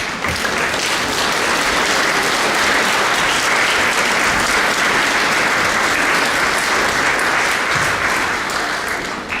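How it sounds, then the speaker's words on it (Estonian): An audience applauds steadily and loudly for nearly ten seconds, welcoming a singer onto the stage at a Christmas event, with dense, even clapping throughout and no voices. "Oli küll tore aplaus"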